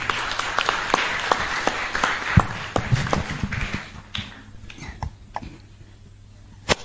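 Audience members at an agricultural stakeholders' forum break into scattered clapping, a loose run of distinct sharp claps that thins out and fades to a few isolated slaps near the end.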